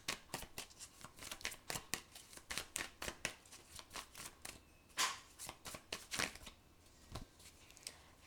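A deck of tarot cards is shuffled over and over in quick, rhythmic riffles with sharp papery flutters and taps, close and fairly quiet, with no voice.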